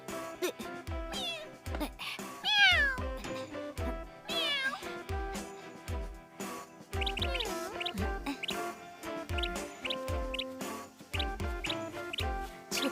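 A cat meows several times amid a busy, continuous music-like backdrop in a home setting, the rising and falling calls standing out near the start and again later under the steady sound.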